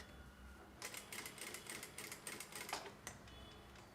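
A sewing machine stitching a pad onto a princess-seam blouse runs in a quiet, rapid rattling burst for a couple of seconds, faint and close, with no talk over it.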